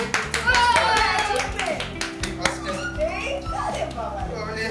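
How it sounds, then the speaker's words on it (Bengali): A quick burst of hand clapping during a lively television interview, with sharp claps overlapping animated talking and laughter throughout. "একদম একটা হাততালি হয়ে যা।"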